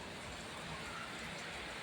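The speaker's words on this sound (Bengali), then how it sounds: "এত বৃষ্টি হচ্ছে রাত্রেও হয়েছে আবার এই সকাল থেকে" Rain falling outdoors during a stormy spell under dark clouds, heard as a faint, steady broadband hiss that continues without a break and has no voices over it.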